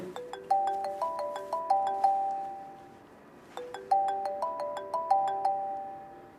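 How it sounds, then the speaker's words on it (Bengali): A phone ringtone plays a bright chiming melody of rising notes, repeated twice with a pause between, fairly clear indoors with no voices. "ফোন ধরলে না কেন?"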